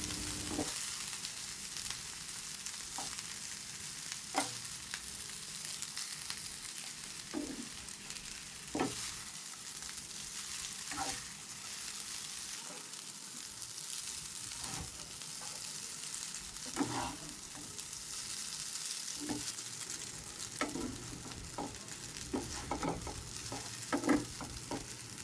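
Chicken chow mein stir-fried in a pan, with a steady sizzle and repeated scraping and tossing strokes throughout, close and fairly loud, no talking.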